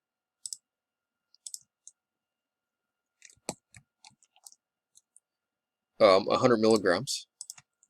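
Scattered keyboard key presses, sparse single clicks and short bursts tapped near the microphone, with a brief spoken phrase in the middle.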